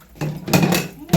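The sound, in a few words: washing dishes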